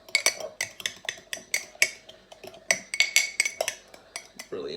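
A whisk beats egg in a bowl with quick, rhythmic metallic clinks against the side, a steady run of sharp taps close by with no voices.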